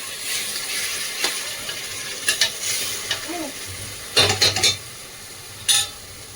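Rajma curry being stirred in a pan, with soft sizzling throughout and a few sharp clusters of spoon scrapes and clinks against the pan, heard up close.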